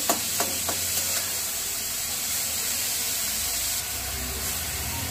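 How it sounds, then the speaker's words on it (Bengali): Prawns fry in mustard oil in a kadai and are stirred around, making a constant close hiss and sizzle with a few light clinks near the start and no talking. "এবার আমি চিংড়ি মাছগুলোকে ভেজে নেব, তাই চিংড়ি মাছগুলো কড়াইয়ের মধ্যে দিয়ে একটু নাড়াচাড়া করে নিচ্ছি"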